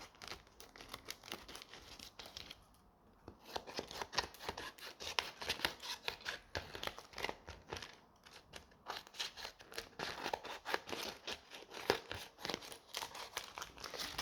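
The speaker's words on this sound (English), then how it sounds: "if you've got any extra bits left over, you can cut them off." Scissors trimming leftover strips of paper from a woven paper craft, with continuous close snipping, crinkling and rustling of paper throughout, a short quieter pause early on.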